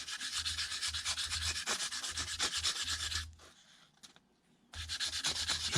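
Fine 1000-grit sandpaper rubbing on a magneto or reduction gear part during a John Deere B engine rebuild, a steady close scratchy stroking that runs continuously, pauses briefly, then resumes.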